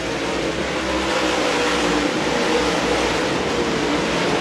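Dirt track race cars race at Lakeside Speedway in a memorial main event, giving a dense, loud, continuous engine roar with no gaps, heard from a distance.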